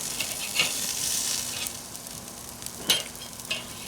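Burgers sizzling over a kettle grill, a bright steady hiss with a few sharp pops and crackles standing out, heard up close with no talking.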